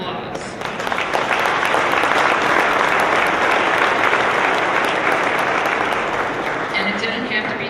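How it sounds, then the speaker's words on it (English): Audience at a women's sports award ceremony in Minnesota gives a sustained round of dense, loud applause, swelling after a moment and tapering slightly near the end. "So give yourselves right now a big round of applause."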